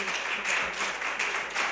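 Congregation clapping hands in rhythm during a Telugu Christian worship song, a steady run of loud, dense claps over sustained music.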